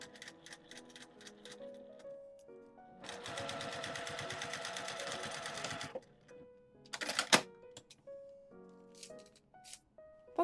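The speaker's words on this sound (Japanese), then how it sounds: "半分だけミシンをかませる感じにすると縫えます。" A sewing machine runs in a fast rhythmic burst of stitching for a few seconds, sewing a clear plastic pocket onto fabric, with soft tonal music and clicks around it.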